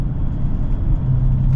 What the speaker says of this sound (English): It's got a great grunt out the back of the vehicle